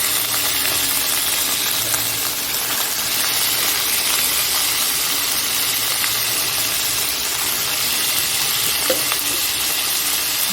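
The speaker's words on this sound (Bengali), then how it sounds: "এখন এটাকে এই তেলে একটু ভাজা করব" Crab pieces fry in hot oil, giving a steady, loud sizzle that runs unbroken throughout, with no talking.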